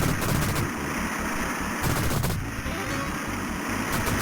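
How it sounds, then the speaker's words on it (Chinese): Heavy machine gun fire in the arcade game Warriors, with dense, rapid bursts of gunshots running nearly continuously over the game's background sound, with no talking. "重机枪"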